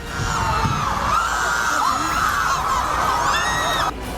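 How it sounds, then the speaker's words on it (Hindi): Crowd of Iranian protesters filling Los Angeles streets, a dense continuous roar of many voices with cheers, whoops and shouts rising and falling throughout, loud and close. "लॉस एंजलिस की सड़कों पर ईरानी प्रदर्शनकारियों की भीड़ जमा हुई"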